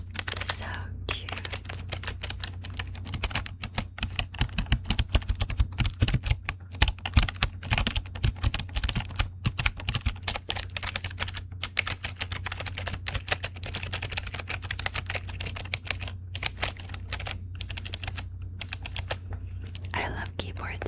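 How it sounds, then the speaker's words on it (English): Close, crisp typing on a Pokemon x Razer keyboard rattles on in a fast, dense stream of clacks for about twenty seconds, with soft whispered speech underneath for an ASMR-style recording. "I love keyboard sounds."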